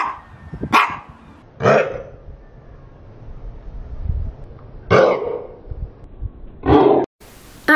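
A highly strung dog that dislikes passers-by and people in high-vis coats barks close by in about five sharp, loud bursts spread unevenly across the stretch, with quieter room noise between.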